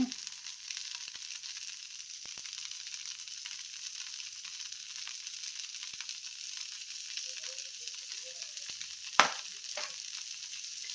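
A steady, fine sizzle of butter frying on a benne dosa in a hot pan, constant and close, with one brief sharp tap near the end.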